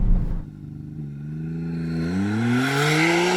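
A McLaren Artura plug-in hybrid supercar launches hard from a standstill, its engine tone climbing steadily in pitch as it accelerates, heard close and loud from inside the car with no talk.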